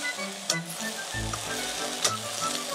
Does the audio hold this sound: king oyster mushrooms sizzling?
yes